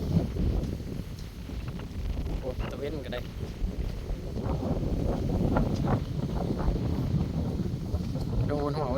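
Wind gusts roar steadily across an outdoor rural garden, with rustling and buffeting noise throughout and people talking faintly underneath.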